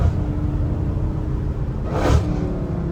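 A Dodge Hellcat Redeye with fully straight pipes rumbles heavily from inside the car, with a brief swell of revving near the middle, loud and steady throughout.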